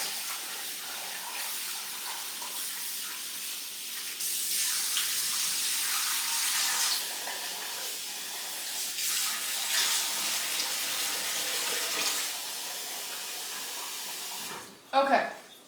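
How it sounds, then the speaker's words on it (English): Water pours and splashes steadily as it drains from rinsed rice in a kitchen, a continuous hissing trickle that swells and ebbs, ending with a brief louder clatter. "I'm gonna drain the water."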